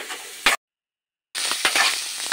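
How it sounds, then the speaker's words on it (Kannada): Onions sizzle and crackle in hot oil for a red chutney, a steady frying hiss interrupted by a sudden gap of silence before the sizzling resumes with occasional stirring scrapes. "ಎಣ್ಣೆಯಲ್ಲೇ ಫ್ರೈ ಆಗಬೇಕು"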